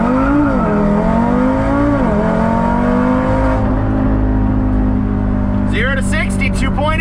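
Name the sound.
tuned Audi RS3 launching and accelerating 0 to 60 mph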